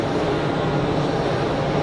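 Turkish Airlines Airbus A321neo jet rolling for takeoff at Geneva Airport, a steady, broad engine roar held at an even loudness throughout, heard from a distance with no talk.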